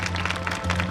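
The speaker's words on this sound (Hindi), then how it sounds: "जोरदार ताली बजाइए परमेश्वर के लिए।" A crowd at a Christian prayer gathering in Latehar claps in a brief, dense patter of applause over a steady low hum.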